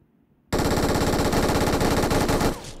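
Sustained automatic gunfire from a battle royale match on the Erangel map in Battlegrounds Mobile India, a loud rapid burst of shots lasting about two seconds after a quiet start, then cutting off abruptly.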